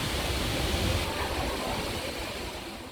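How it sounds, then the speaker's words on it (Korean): A roaring waterfall about 25 m high and 60 m wide beside Hongjecheon stream in Seoul, a steady loud broadband rush of falling water with no break. "높이 약 25m, 폭 60m의 폭포인데요"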